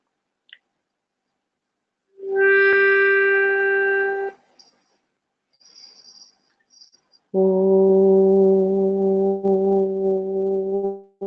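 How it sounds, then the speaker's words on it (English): Two long sustained tones of a group chanting Om hum one after another, each steady and drawn out, with a few faint clicks in the quiet gap between them. "And let us sound a blue Om."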